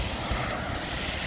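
Boeing 737-800 NG airliner on final approach to land at Orly airport, a steady broad jet engine roar, loud and continuous without a break.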